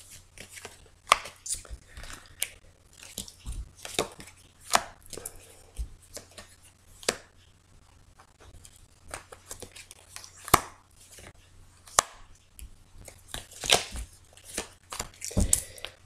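A deck of tarot cards being cut and handled on a table, giving a loose run of sharp, close, dry taps and flicks at irregular intervals over a quiet background.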